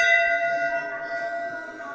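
Metal temple bells ring at Golu Devata temple, where wish-granted devotees hang bells, a single sustained bright tone fading gently over a couple of seconds with no talk.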